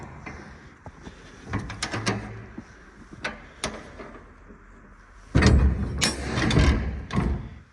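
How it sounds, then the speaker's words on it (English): Stiff, rusty hinged doors on a steel shipping container creak and clank as they are swung open, with scattered metallic knocks and then a louder, longer grinding scrape toward the end. "I'll open both doors so we get a little better light in there."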